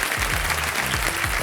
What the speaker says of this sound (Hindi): एक बार जोरदार तालियां बजाने के लिए।